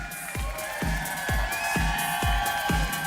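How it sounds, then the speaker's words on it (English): Audience at a large company event cheering and whooping for new top earners, a sustained bright wall of crowd noise with rhythmic low thumps from music pulsing underneath about twice a second. "One more huge round of applause for all of our new Mega Million and 7-figure earners at My Daily Choice"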